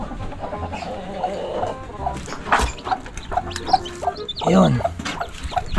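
Chickens cluck and squawk close by inside their coop in scattered bursts, over a steady background hum, with a brief spoken word.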